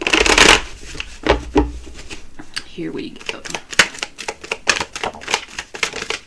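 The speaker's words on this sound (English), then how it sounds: "We're going to shuffle one more time." Repeated riffling and snapping of tarot cards being shuffled, a brisk flurry followed by irregular clicks, with a voice speaking briefly at the start.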